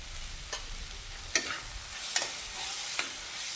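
Bread sandwich filling with turmeric is stirred in a hot pan under a soft, steady sizzle, with a few sharp scrapes of the spoon against the pan at irregular intervals, close by and with no talk.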